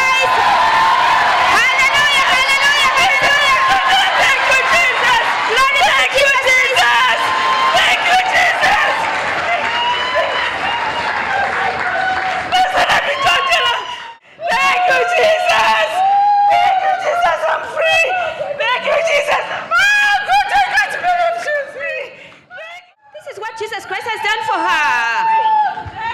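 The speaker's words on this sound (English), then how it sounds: "clap for Jesus Christ" A church congregation claps and cheers for Jesus Christ during a healing service, with loud crowd noise and dense clapping running under continuous talking and voices throughout.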